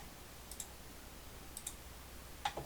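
Light computer mouse clicks in quick pairs, repeated three times at roughly one-second intervals over a steady low hiss, used to step through to the next brush in illustration software, with no voices.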